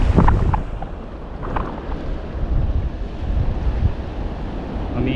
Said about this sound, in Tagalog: Bumanat na yung hangin niya. Kanina wala pa tong hangin ah.